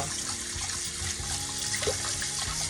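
Tap water runs steadily into a pot of rice being rinsed, a continuous close splashing rush with small swirls and trickles throughout.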